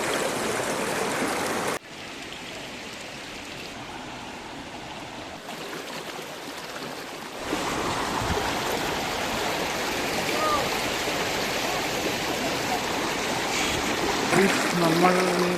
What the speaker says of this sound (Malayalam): ഞാനിപ്പം കൂർഗിൽ ബാംബു ഫോറസ്റ്റിൽ ഒരു പുഴയുടെ നടുക്കിരിക്കുവാണ്.